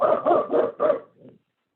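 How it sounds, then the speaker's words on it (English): Over a Zoom meeting audio line, a dog barks four times in quick succession, loud and close, then gives a softer final yip before silence. "figure out who's barking. Who needs an animal shelter online that's barking at us?"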